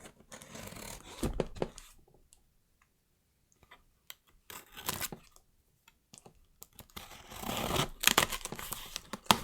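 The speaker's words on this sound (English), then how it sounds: "those are sharp scissors." Sharp scissors snipping and tearing through packaging at close range: a few brief crisp cuts, then quiet gaps, then a longer burst of dense crinkling, cutting and rustling toward the end.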